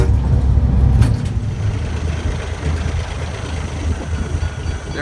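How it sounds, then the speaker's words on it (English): A heritage train at the Waterloo Central Railway rumbles and idles close by, with a steady low engine drone and a brief clank near the start, fading slightly but continuing alone throughout. "There's the whole train."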